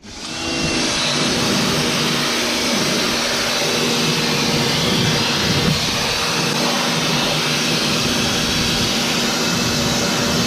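A pressure washer jet-washing farm tractor equipment outdoors, giving a loud, steady broadband hiss and whine that holds unbroken from start to finish with no talking.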